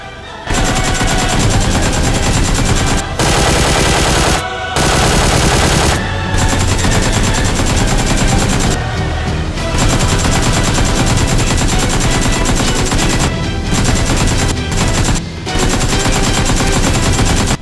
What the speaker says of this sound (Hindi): मैं फायर दूंगा